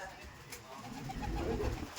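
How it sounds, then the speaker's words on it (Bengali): Madras pigeons coo softly in a short, low murmur, with a voice talking over them. "ম্যাড্রাসের মধ্যে অনেক টপ ক্লাস কিছু ম্যাড্রাস পায়রা আছে"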